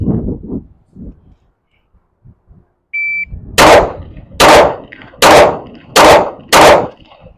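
Five loud, close pistol shots from a Shadow Systems handgun fired at a target, evenly spaced about a second apart, each a sharp crack with a ringing tail, after a short electronic beep and some brief speech.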